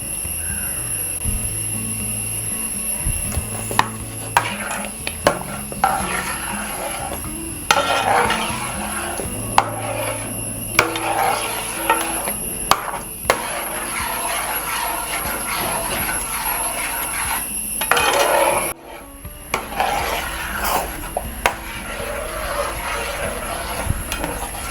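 Ragi halwa cooks with ghee in a pan while a spoon stirs and scrapes it, with intermittent clinks and soft sizzling over a long stretch and a short quiet gap near the end.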